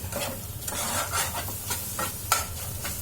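Fried rice with egg stirred in a pan: repeated scraping strokes of a spatula over a steady low sizzle, close and fairly quiet, with no talking.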